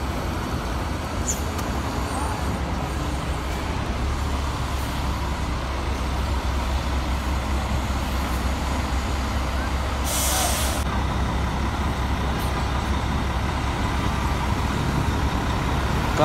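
A bus idles and pulls out at Terminal Poris bus station in Tangerang, giving a steady, close diesel rumble with traffic around it and a short hiss of air brakes midway.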